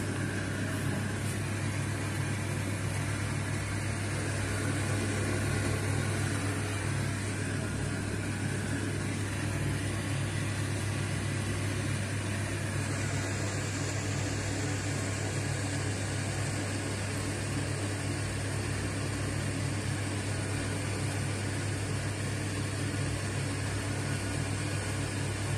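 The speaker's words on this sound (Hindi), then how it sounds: "अब हम इसको डीप फ्राई करेंगे एक एक करके" Samosas deep frying one at a time in a kadhai of oil over medium heat give a steady, even bubbling hiss that runs unbroken and fairly loud throughout, with no voices.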